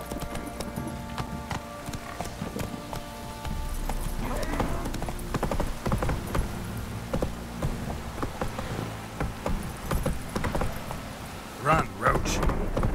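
Roach the horse galloping through rain in The Witcher 3, rhythmic hoof clip-clops over a soft patter of rain with occasional snorts, while someone talks and urges the horse on.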